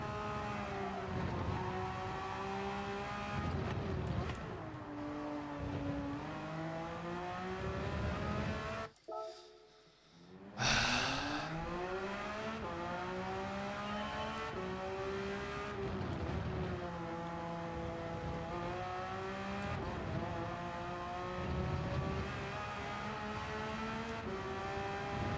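Porsche race car in Gran Turismo 7 roars continuously with rising and falling engine pitch through repeated gear shifts, a brief dip near the middle before the engine climbs again, loud and close with no talking.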